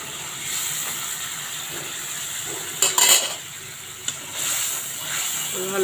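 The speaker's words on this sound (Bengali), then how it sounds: "দিয়ে ভালো করে কষিয়ে নেব।" A spice paste with ground tomatoes sautés in a pan, giving a steady close sizzle with a few sharp scrapes and clinks of a stirring spoon against the pan, and no voices.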